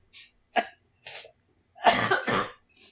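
A series of short coughs and throat-clearing bursts, close and fairly loud, ending in two heavier hacking coughs.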